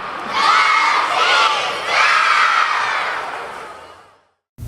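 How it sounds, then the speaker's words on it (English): A loud crowd at the annual Lions Club carnival over Independence Day weekend in Rolla: excited shouting and cheering with children's voices, in two swelling waves, then fading out abruptly. "Crowds formed for the annual Rolla Lions Club Carnival held over Independence Day weekend"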